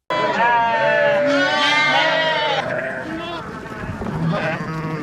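Many breeding ewes and newborn lambs bleat loudly and continuously, overlapping calls from a large flock of hundreds close by in Elbistan, Kahramanmaraş, Turkey.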